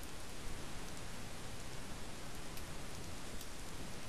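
Fire crackling and roaring in Minecraft with the Tale of Kingdoms mod, a steady dense broadband hiss like rain that stays even and moderately loud throughout, with no voices.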